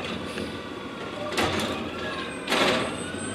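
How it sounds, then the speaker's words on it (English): A garbage truck rolls past on a residential street with a steady engine rumble, punctuated by two short hissing air-brake or hydraulic bursts, at moderate distance. "And the regular garbage truck."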